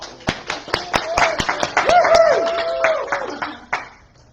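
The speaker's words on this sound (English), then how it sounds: "Let's give a big round of applause to Bill." Scattered claps from a small audience honouring Bill, a handful of sharp separate hand claps spaced unevenly, with a voice speaking over them and a tonal sound sliding through the middle.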